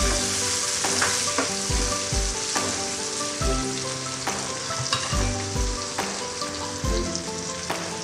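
Tomatoes cook in a hot pan for fish sarciado, giving a loud, continuous frying sizzle broken by repeated sharp clinks and scrapes of a utensil stirring.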